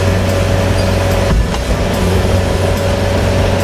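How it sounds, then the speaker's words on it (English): A Wacker Neuson machine cycles a load under full power with its inch brake in use, giving a steady loud engine drone with a slight surge partway through, with no voices. "this machine cycles a load pretty quickly"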